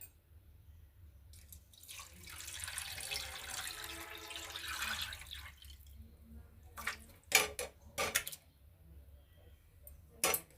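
Semolina pours into a pan of hot tempering, a soft, sizzling rush building over several seconds, followed by a few sharp clatters of a utensil against the pan.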